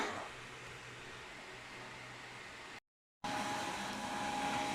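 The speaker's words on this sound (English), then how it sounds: "Again, I'm sorry about the noise of the other rig." A cryptocurrency mining rig runs nearby on a table, giving a steady, moderately faint broadband fan-like whoosh that cuts out briefly and returns.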